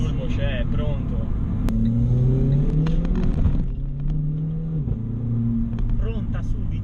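A Renault Clio RS18 with an Akrapovic exhaust accelerates on a test drive, its engine note rising through the revs in a steady rumbling drone heard from inside the car, with someone talking over it.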